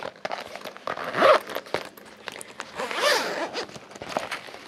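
A small zipper on a GHD hair straightener storage case is pulled in two short runs, a rasping burst near the start and another about two seconds later, close and fairly quiet amid light handling noise.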